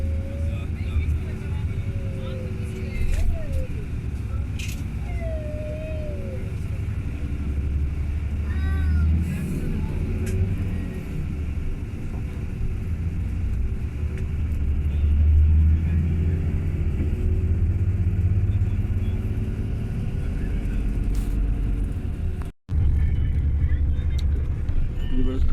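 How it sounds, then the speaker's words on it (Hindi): Road traffic at Islamabad Plaza, Pakistan: a continuous low rumble of cars passing and engines revving nearby, with occasional swells as vehicles go by and brief higher squeaks over the steady drone. "इधर से गाड़ी जो है निकल रही है।"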